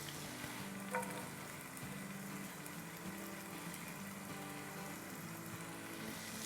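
Eight to ten dried red chillies and garlic sauté in a pan over medium-high heat for meat pickle, giving a faint, steady sizzle with a light clink near the start.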